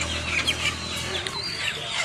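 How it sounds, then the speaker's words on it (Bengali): A chicken clucks close by, with short repeated calls, during poultry loading onto a truck in Raninagar, Naogaon. "মুরগি আসতেছে"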